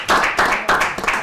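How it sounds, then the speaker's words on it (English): A handful of distinct rhythmic clapping bursts from an audience at a motivational talk, close and fairly loud, about four or five claps. "Let's give them a round of applause"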